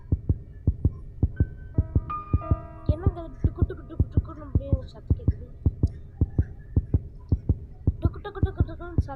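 Heartbeat sound effect in the Granny car escape horror video game: a steady, evenly spaced thumping pulse running throughout, loud and close, with a person talking over it.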